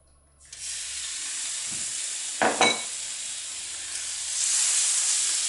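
Seasoned pork lands on a preheated griddle and breaks into a sudden loud sizzle that settles into a steady hiss, with a brief clatter midway and the frying swelling again toward the end.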